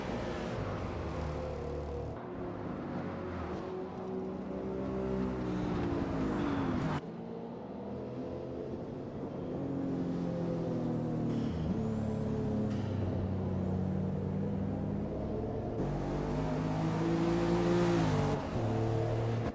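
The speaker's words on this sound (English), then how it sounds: "It sounds better than a lot of other turbo V6s." Turbocharged V6 race car engine in Gran Turismo 7 or Forza Motorsport, revving continuously with rising and falling harmonic pitch sweeps through gear changes and a few abrupt cuts, loud and steady for about twenty seconds with no talking.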